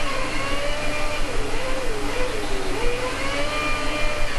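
A Formula 1 car engine in the F1 2011 racing video game, on the Brazil circuit, whines at high revs with its pitch rising and falling as it accelerates and shifts.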